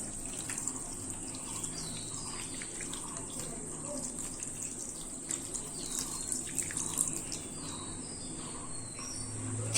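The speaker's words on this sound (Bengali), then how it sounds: "এবার ছানাগুলোকে আমি পরিষ্কার জল দিয়ে 1-2 বার এইভাবে ধুয়ে নিচ্ছি" Chhena (vinegar-curdled paneer curds) for lychee rasgulla being rinsed in clean water, with a steady, close rush of running water and splashing that continues without a break and without talk.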